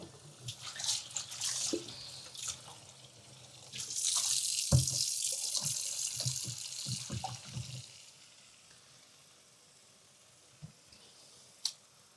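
Water running and sloshing in a sink as Atari ST computer parts are washed with washing-up liquid, splashing and handling noises for several seconds, then quieter drips and a few small knocks.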